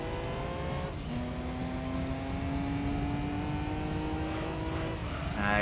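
A racing car screaming along at high speed in Gran Turismo 3, its engine holding a steady high-pitched drone through long gears, with a brief shift near the start and a rising rev at the end.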